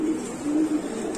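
A satin pigeon coos in soft repeated low notes, close and alone, in a short burst of about three calls.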